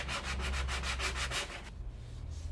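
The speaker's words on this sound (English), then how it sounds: "I'm just going to spend some time sanding that area in line with everything" Rhythmic back-and-forth hand sanding on filler-covered bodywork of a BMW E30 rear arch, about ten close, evenly spaced rasping strokes, then quieter rubbing.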